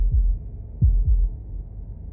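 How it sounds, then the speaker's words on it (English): In the video game Slay the Princess, a deep heartbeat thumps three times, one single beat and then a close pair, low and muffled under a steady hum. "That was the sound of a heartbeat,"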